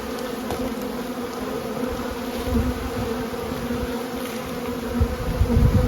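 Honeybees at a hive during spring feeding with pollen patties make a dense, steady buzz close by, holding a continuous drone throughout with slight swells in loudness.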